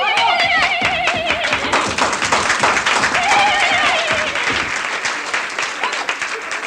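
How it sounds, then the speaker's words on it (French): A stage show audience claps loudly for a pair of performers in a 1976 French comedy revue, with a dense wash of applause and voices rising over it before the clapping slowly thins. "on l'applaudit bien fort, les Jeanne d'Arc"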